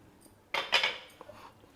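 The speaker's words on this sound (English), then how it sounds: "Now I am adding half a cup of sugar to this. Just give it a good mix." Rice payasam being mixed with sugar in a pot: a brief scrape and clink of a spoon against the vessel, close and moderately loud, followed by a few faint taps.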